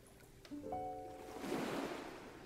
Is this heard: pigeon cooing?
no